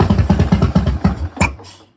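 A custom chopper motorcycle cranks in a rapid, loud stuttering rhythm during a cold start, with a sharp pop near the end before the sound dies away.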